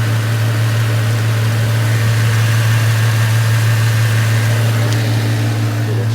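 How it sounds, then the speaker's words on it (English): An Infiniti G37 engine idles after an oil change, a steady loud low hum with constant vibration and no variation in pitch, heard close with no voices. "let the car run for a minute"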